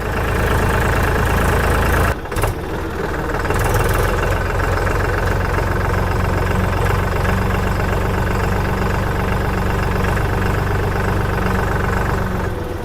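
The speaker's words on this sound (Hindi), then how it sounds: "अब देखो भाई क्या शानदार तरीके से हमारा ट्रैक्टर चल रहा है" A heavy tractor engine chugs loudly and steadily nearby, with a brief dip near the start before settling into a continuous rumble.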